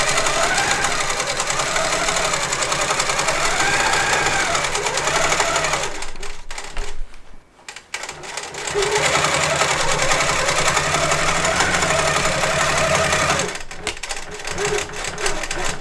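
A longarm quilting machine stitches across a quilt on its frame with a steady, rapid mechanical hum and clatter, pausing briefly midway before resuming close and loud.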